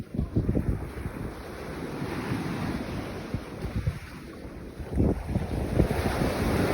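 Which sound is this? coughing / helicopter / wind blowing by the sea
wind blowing by the sea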